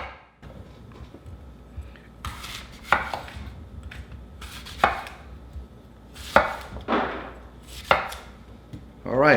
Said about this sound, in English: I am going to go ahead and just chop these up a little bit.